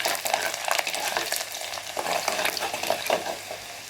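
Garlic cloves and fenugreek seeds frying in oil in a pan for mango seed kulambu, a steady close sizzle with crackling pops and a spoon stirring throughout.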